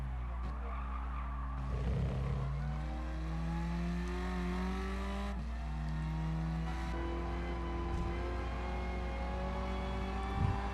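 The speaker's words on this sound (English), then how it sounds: "Love the growl from the interior. You could just hear the engine so much better." Car engine in Gran Turismo Sport heard from the interior, a deep droning growl that rises and falls through several gear changes, with tire squeal and skidding layered over the steady engine note.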